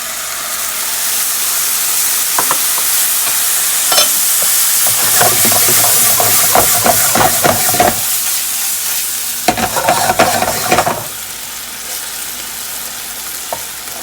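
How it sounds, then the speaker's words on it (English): White wine sizzles in a hot pan while being stirred during lasagna prep, a steady close frying hiss with bursts of louder crackle and stirring scrapes, no talking. "And then I'm going to hit it with a little white wine."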